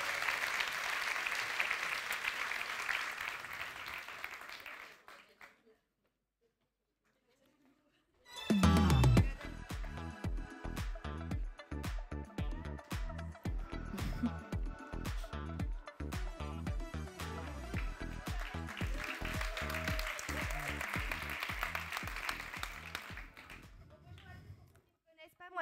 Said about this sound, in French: On peut bien les applaudir.